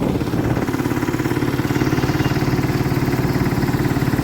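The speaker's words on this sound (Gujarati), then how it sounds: "ટ્રેક્ટર ઉપડું છે" A tractor engine chugs steadily at close range as it pulls away with a loaded trailer, its rhythmic low thumping continuous throughout with no voices.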